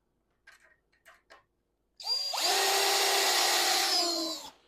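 Power drill driving a screw into a wooden bench brace for a model railway layout, a few faint taps followed by one loud, close, sustained whirring run of about two and a half seconds that winds down at the end.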